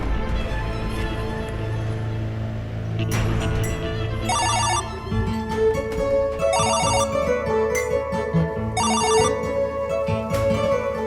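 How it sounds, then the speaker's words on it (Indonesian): A mobile phone rings with a repeating electronic ringtone, bursts of trilling tones recurring in a steady pattern over a background of melodic music, loud and close. "Tapi tidak mungkin dia tidak mendengar suara handphone ini."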